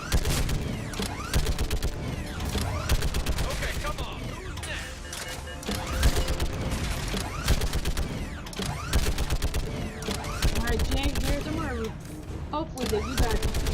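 Rapid video-game gunfire crackles in dense bursts of sharp shots with short pauses, fairly loud and sustained, while people talk over the shooting.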